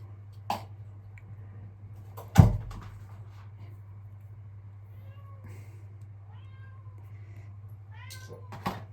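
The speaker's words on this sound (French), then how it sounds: "Il y a le chat qui miaule évidemment." A domestic cat meows several times in a quiet indoor room, short rising and falling calls scattered across the stretch over a steady low hum, with a couple of sharp knocks early on.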